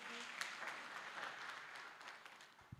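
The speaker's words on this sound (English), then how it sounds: "Clap for my baby." An audience at a school parents meeting claps for a young girl who has just introduced herself: steady, fairly faint applause that carries on throughout.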